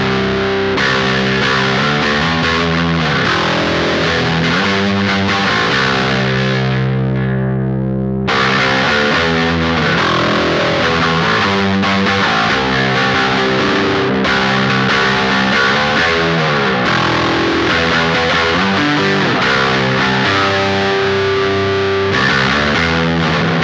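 An electric guitar plays through an Electric Love Pedals Aquatone pedal in distortion mode, giving a loud, saturated, buzzing tone of sustained chords and riffs with a brief break midway, continuing for over twenty seconds without talk.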